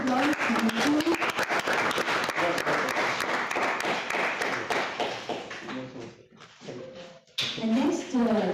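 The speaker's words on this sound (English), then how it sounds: "Big round of applause." Audience applause at a conference valedictory ceremony at IIT Delhi: dense, steady clapping fills most of the stretch, fading out briefly before a second burst, with voices mixed in.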